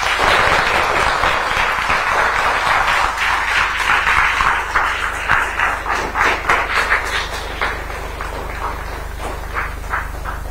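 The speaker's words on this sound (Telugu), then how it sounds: "కాబట్టి ఇది అమలు చేస్తామని గట్టిగా చప్పట్లు కొట్టి అందరూ చెప్పండి" Loud audience applause at a government event in Andhra Pradesh, dense and sustained at first, then thinning into scattered individual claps before tapering off.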